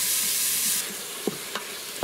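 Onions and garlic sautéing in an Instant Pot give a steady close sizzle, broken by a few short taps and scrapes of stirring near the end.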